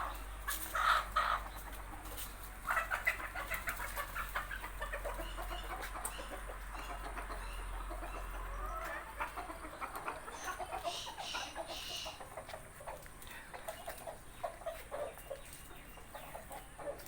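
Desi hens kept for organic eggs in a small backyard chicken coop, clucking and squawking in irregular bursts close by over a low background hum, with calls thinning out in the later part.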